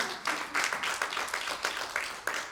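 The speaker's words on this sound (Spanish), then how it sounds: "Dale un aplauso al Señor" A church congregation claps in a steady rhythmic beat, sharp bright claps repeating roughly every third of a second, moderately loud and fairly close.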